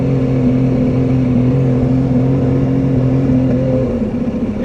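A car engine running at full throttle while hot in a Javelin, a loud, steady, close drone with strong low harmonics that holds constant for several seconds before easing off slightly.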